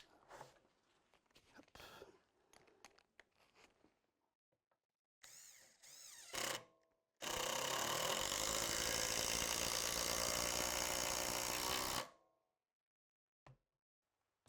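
Makita DTD173 18 V LXT impact driver in progressive mode sinking a screw into wood, a loud, steady burst of about five seconds after some brief handling noises, then a short faint tap.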